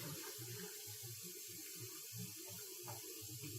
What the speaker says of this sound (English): And now we're going to get our hot water.